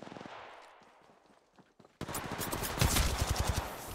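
Gunfire in the Apex Legends Mobile video game, a quiet stretch suddenly giving way to loud, rapid bursts of automatic shots that continue densely to the end.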